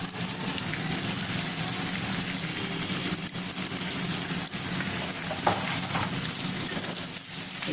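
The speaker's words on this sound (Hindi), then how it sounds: "इसको अच्छी तरह से मसालों को भून लेंगे।" Ground spices (turmeric, chili, coriander powder and salt) fry with tinda in a pan, giving a steady, moderately quiet sizzle with faint stirring scrapes, close and unbroken.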